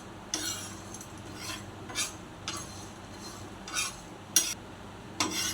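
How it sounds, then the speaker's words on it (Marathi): Coriander and cumin seeds dry roasting on a hot griddle for a spicy brinjal dish, with a steady low rustle and several sharp scrapes and stirring scratches from a spatula at intervals. "गरम तव्यावर भाजून घेऊ।"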